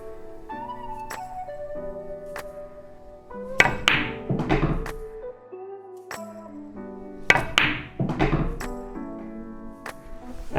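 Two sharp cue-on-ball strikes in a 9-ball pool shot, each a crisp knock followed by rolling ball clatter, set against a low steady tonal background with scattered lighter taps.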